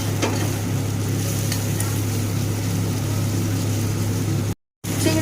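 Crushed shrimp frying with onion, ginger, garlic and spices in a pan, a continuous close sizzle with stirring scrapes and a low steady hum beneath, briefly cutting out near the end.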